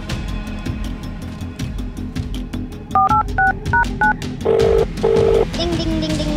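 A telephone number is keyed in, a quick series of about eight dialing tones followed by two longer beeps, heard clearly over a low background murmur.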